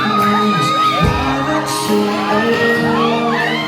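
Concert audience shouting and whooping at a concert in Calgary, a loud, dense crowd roar with rising cries and cheers layered throughout.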